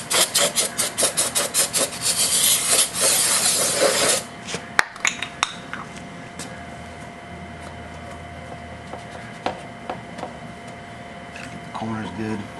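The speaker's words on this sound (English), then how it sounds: "Maybe we'll just grind some out. We'll do it quick here." Buildup being ground out of a motorcycle cush drive makes a close, harsh rasping in rapid repeated strokes for several seconds, then fades into quieter scraping and clatter with a person talking.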